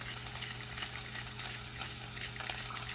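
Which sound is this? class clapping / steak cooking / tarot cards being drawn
steak cooking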